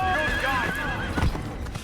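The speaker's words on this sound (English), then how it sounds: "Altair ventures out to a city on horseback" Horse hooves clip-clopping at a gallop in the Assassin's Creed video game, with a whinny partway through; steady, close and loud, no talk.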